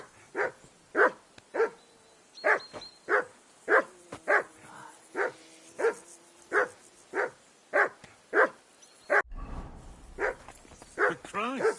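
Rapid, steady barking from a dog in the medieval game Kingdom Come: Deliverance II, about a dozen close, loud barks in even rhythm. A short rustling break interrupts them, then a few more barks follow.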